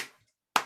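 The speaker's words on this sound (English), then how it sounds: "he just starts clapping" A single sharp hand clap rings out close and clear after a brief fading tail of a previous sound and a moment of near silence.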